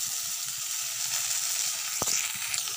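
Chopped medium tomato goes into a hot pan of oil for potato and onion-green bhujia, giving a steady loud sizzle with a short clatter partway through.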